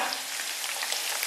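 Soybean paste fries in a hot wok, a dense, bright crackling sizzle that holds steady throughout at close range, with no talking.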